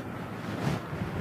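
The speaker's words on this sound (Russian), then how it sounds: "Штиль может смениться порывистым ветром за считанные минуты." Steady wind roars and buffets against the microphone on an off-road slope, a dense rushing noise with slight swells, no voices.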